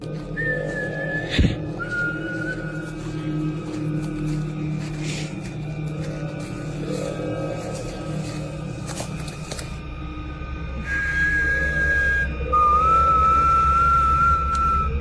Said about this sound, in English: The man whistles into the darkness, confidently calling out.